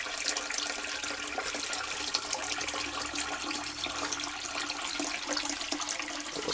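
Toilet flushed by a sump pump through a long hose, a steady loud rushing of water that stays even throughout with no voices.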